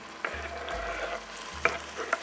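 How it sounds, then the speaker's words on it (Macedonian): Chopped onion and pepper sizzle in a frying pan, a soft steady hiss with a few clacks of stirring utensils, no voices. "Пиперката исто така ќе испржиме со кромитот."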